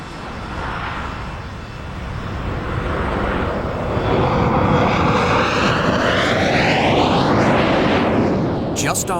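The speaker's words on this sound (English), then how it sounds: "Comet Yoke Peter took off from London Heathrow bound for Johannesburg" A de Havilland Comet jet airliner takes off from London Heathrow, a loud, swelling engine roar with a rising whine as it passes overhead, ending with a faint ticking near the close.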